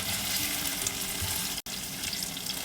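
Fish curry ingredients with ginger sautéing in a pan make a steady, close sizzling hiss that cuts out for a brief moment before resuming.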